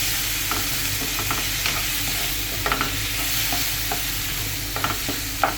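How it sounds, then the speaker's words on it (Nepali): Chopped tomatoes cooking in a pan for a fish dish, a loud, steady sizzle close up, broken by repeated scrapes and light knocks of a spoon stirring, with no talking. "अब यो टमाटर पाक्दैछ।"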